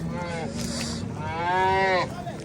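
A dairy cow at a livestock market moos twice, a short low call then a longer, louder drawn-out moo, close by with no talking.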